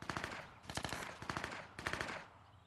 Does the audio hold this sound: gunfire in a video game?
yes